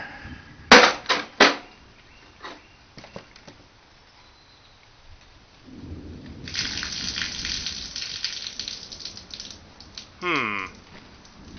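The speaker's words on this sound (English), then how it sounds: "Plenty of water coming through here." Water leaks and pours through a roof, with sharp knocks and drips early on, then a loud rushing gush that swells midway and surges again briefly later, all close by without speech.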